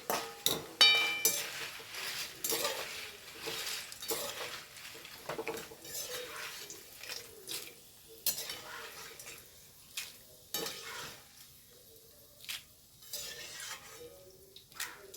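Fried jackfruit chips are scooped out of hot coconut oil with a metal ladle. Clinks and scrapes against the pan repeat close by over a continuous bubbling sizzle, with brief rustles as the chips are lifted.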